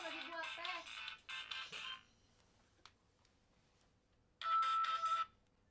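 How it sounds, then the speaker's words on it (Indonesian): A telephone rings in bursts of bright electronic ringtone, two longer stretches, then a gap with a faint click, then another burst, fairly clear and close. "Mila, ada telepon nih"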